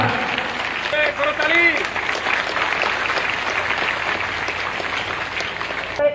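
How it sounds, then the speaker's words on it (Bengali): An audience at a public reception applauds with steady, dense clapping that carries through the whole stretch, while a voice speaks over it. "করতালি চলবে করতালি বন্ধ করা যাবে না"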